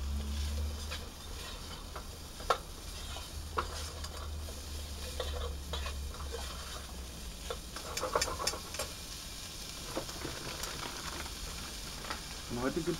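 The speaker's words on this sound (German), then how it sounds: "Das lasse ich jetzt ohne Öl oder so ankochen oder anbraten." Minced meat fries in a pan without oil, giving a quiet, steady sizzle broken by occasional scraping and clacking as it is stirred, heard close but low in level.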